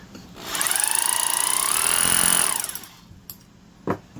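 A rotary hammer drill runs for about two seconds, producing a loud, rapid pulsing hammer blow combined with a whining motor that rises and winds down, followed by a few brief knocks.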